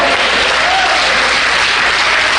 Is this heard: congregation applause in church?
yes